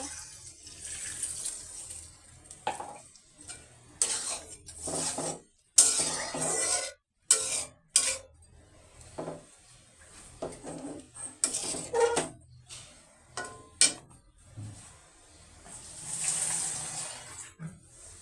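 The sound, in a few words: water added to frying fish curry masala, stirring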